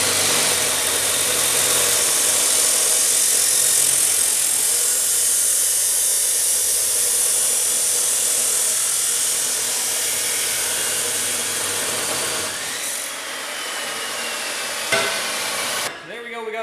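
A power tool cuts through a steel driveshaft tube for a custom driveshaft rebuild in a home garage, a loud, steady high-pitched grinding whine that holds for about fifteen seconds before winding down.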